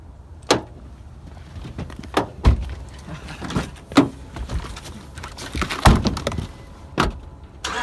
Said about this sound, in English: I'm literally opening the door.